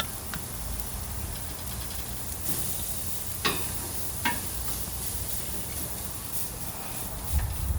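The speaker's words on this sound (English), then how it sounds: "Oh, they just touched the grill, guys, and the smell from the onions, so good" Onions land on a hot grill and give off a soft, steady sizzling hiss, with a few sharp clicks and taps along the way.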